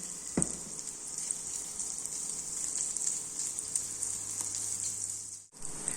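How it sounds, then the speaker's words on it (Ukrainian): Shrimp frying in a hot pan, a steady close sizzling, a constant crackling hiss with a few small pops. "Смажимо на розігрітій пательні 4-5 хвилин до утворення золотистої кірочки."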